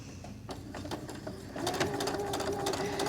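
A sewing machine stitches an AirPods keychain case, first in short bursts and then in a steady, quiet, continuous hum.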